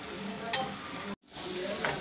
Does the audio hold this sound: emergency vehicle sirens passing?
no